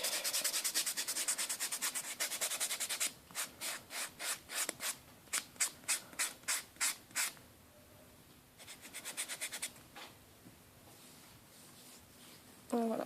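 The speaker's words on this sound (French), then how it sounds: "je passe la brosse et le bloc" Gel nail being buffed with a nail buffer block: quick rhythmic scratchy rubbing strokes, close and dry, with steady scrubbing bursts and short pauses.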